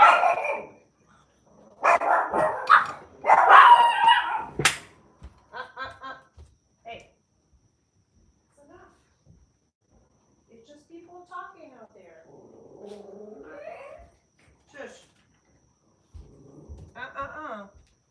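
Chihuahuas bark in short, yappy bursts early on, mixed with a person talking and chuckling, followed by quieter stretches of speech.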